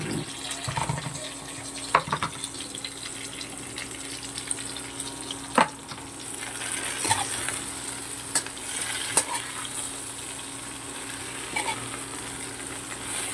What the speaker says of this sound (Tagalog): ilagay na natin yung gulay